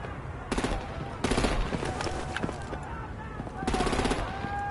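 Bursts of automatic gunfire from Batman: The Enemy Within rattle out in three sharp volleys, loud and close, with music and game ambience underneath between them.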